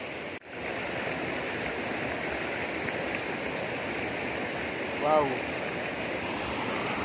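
Clear stream water rushes steadily at a waterfall on a farm lot, a constant broad hiss filling the scene, with a brief exclamation from a voice partway through.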